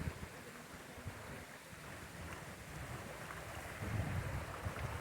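A small mountain stream with little waterfalls beside a forest trail in the Mala Fatra, Slovakia, gives a steady broadband rushing murmur, moderately loud and continuous, with some wind noise on the microphone.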